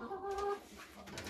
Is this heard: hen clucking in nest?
yes